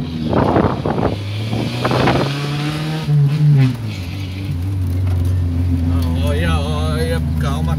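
Fiat Uno car engine revving up and holding a raised, droning pitch close to the microphone, with wind buffeting and voices talking early on.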